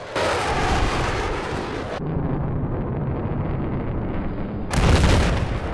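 AC-130 gunship cannon in Battlefield 4 fires heavy booming shots, one at the start and another near the end, with a rumbling low blast and a sustained roar of engine and battle noise between them.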